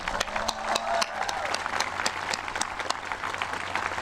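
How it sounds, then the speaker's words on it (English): An audience at a high school graduation claps steadily for several seconds, a dense burst of applause from a room full of people. "Can we give all 5 of our retirees a round of applause right now?"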